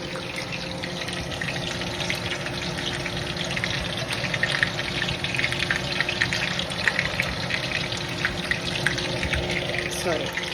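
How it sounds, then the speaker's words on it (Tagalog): Okoy vegetable fritters frying in hot oil, giving a steady, dense sizzle that holds without a break from start to finish, with no voices over it. "yung ating pinipritong okol"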